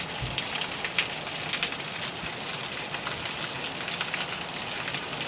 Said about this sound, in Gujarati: આજો બહુ વરસાદ આવતો છે.